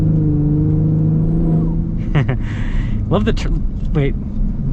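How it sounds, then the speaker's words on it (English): A custom Ford Raptor EcoBoost truck builds engine drone under steady conversation, with the turbo whooshing up briefly as it accelerates; the engine sits close and constant beneath the voices. "it's kind of cool little turbo noise"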